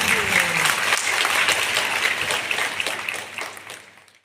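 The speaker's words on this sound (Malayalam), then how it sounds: "എല്ലാവരുടെയും നിറഞ്ഞ ഒരു കൈയടി വേദിയിലേക്ക് എത്തേണ്ടതാണ്." An audience applauds toward the stage at a Sree Narayana festival event, a full crowd of hands clapping densely and steadily before gradually thinning and fading out toward the end.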